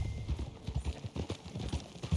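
Horse hooves clip-clop in a quick, steady rhythm while a horse is ridden in the Red Dead Redemption 2 video game, fairly soft and alone.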